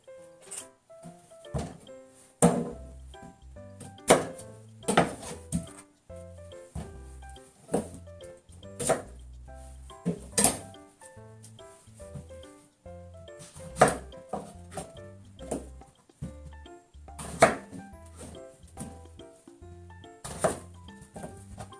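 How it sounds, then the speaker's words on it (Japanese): A kitchen knife slices eggplant on a cutting board for shibazuke pickles, a slow series of sharp, crisp thuds spaced irregularly, close and clear with quiet gaps between cuts. "ナスビも同じように切っていきます"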